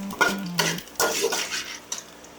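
Garlic and onion frying in a pan are stirred with a utensil, giving several distinct scraping clacks against the pan over a faint sizzle.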